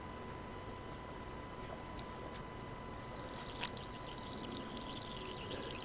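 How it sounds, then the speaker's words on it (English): Water runs and trickles into a vessel, a steady faint pouring with small drips and splashes, alone with no talk. "The vessel is filled with water."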